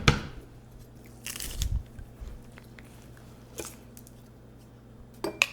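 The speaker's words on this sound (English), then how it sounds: "put it through a little garlic press like I have here" Garlic cloves squeezed through a small hand garlic press, giving a few short squishy crunches and clicks of the press separated by quiet gaps, close by, with no talk.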